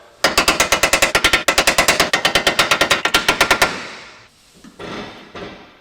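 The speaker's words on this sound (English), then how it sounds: "I'm gonna tap on this and you'll see it go up" Rapid metallic tapping on a Subaru Sambar strut during a 1.5-inch HRG Offroad lift kit install, a fast even series of sharp, loud close knocks for several seconds before a few softer clunks.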